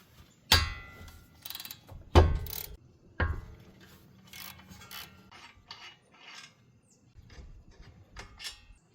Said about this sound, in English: to do this, we're going to remove these two 17mm bolts